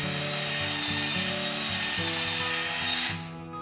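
Electric spice grinder whirring loudly as it grinds a cinnamon stick, a steady high motor drone with rhythmic grinding pulses that winds down near the end.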